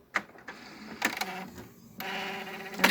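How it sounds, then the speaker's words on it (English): An HP Deskjet Ink Advantage 4535 printer runs its alignment, giving off short whirring motor bursts, clicks and carriage clatter at close range, ending in a sharper mechanical clack. "Then it will align the printer,"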